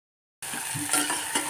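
Chili, mustard seeds and cumin crackle in hot oil for a Maharashtrian tempering. The close, steady sizzle starts after a short silence and carries a few faint pops and stirring sounds.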